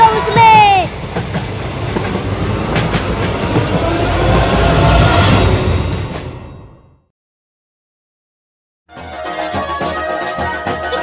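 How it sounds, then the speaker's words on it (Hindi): A cartoon train arrives with loud rumbling clickety-clack and a brief high whistle at the start, fading out to silence before a clattering resumes at the end; a voice speaks over it. "ट्रेन आ गई, ट्रेन आ गई, ट्रेन आ गई।"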